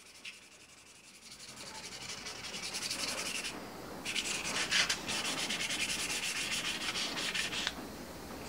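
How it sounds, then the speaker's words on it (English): Fine sandpaper rubs dried superglue off the handle of a forged bushcraft chopper in quick, steady back-and-forth strokes, close but quiet, pausing briefly midway. "Sand off the superglue from the handles, finish with fine sandpaper"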